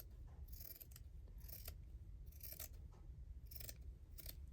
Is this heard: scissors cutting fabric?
yes